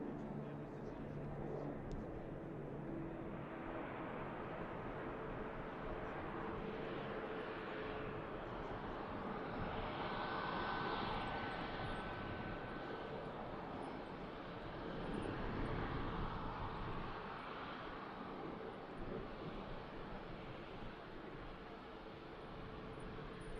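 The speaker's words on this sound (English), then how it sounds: "a fairly long rollout for the flight down to Cancun of the TUI" A TUI airliner on a long takeoff rollout at Manchester Airport for a flight to Cancun, heard as a steady broad jet roar that swells and eases in two gentle surges, at moderate distance.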